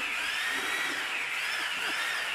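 A power drill runs at a steady speed, giving a faint, continuous whirring whine with slight wavering pitch, heard at some distance with no speech.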